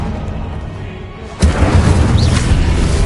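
Incendio spell cast in a Harry Potter game: a quiet stretch, then a sudden loud, deep blast with a fiery whoosh that roars and crackles on as the flames spread nearby.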